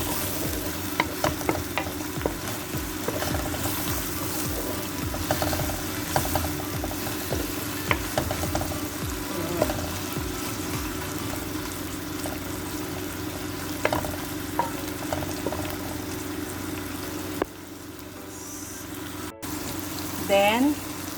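Ingredients for Filipino pancit canton fry in a pan with a steady, close sizzle. Scraping and stirring clatters recur throughout, and the sizzle drops quieter near the end.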